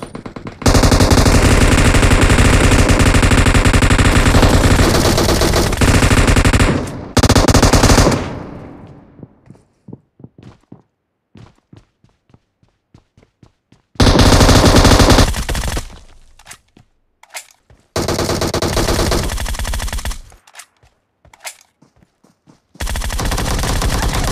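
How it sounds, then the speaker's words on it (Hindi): Machine gun fire in a battle royale video game, long loud sustained bursts broken by pauses and scattered single shots, several separate volleys across the stretch, no talk. "ये यहाँ पे मशीन गन वाला बंदा था वो बहुत ही खतरनाक"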